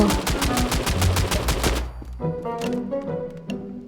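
Rapid bursts of video game gunfire rattle loudly for a couple of seconds, then give way to clanking, ringing game effects.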